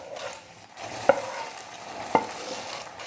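Sugar syrup is stirred into khoya kheer in a pan, making a steady wet, soft churning with two brief clinks of the spoon against the rim, close and fairly quiet, with no talk.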